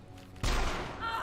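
A single loud gunshot headshot in Mass Effect 1 rings out sharply and close, with a booming hit and then a lingering rumbling tail.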